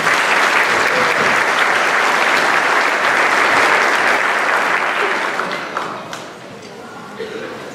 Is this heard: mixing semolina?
no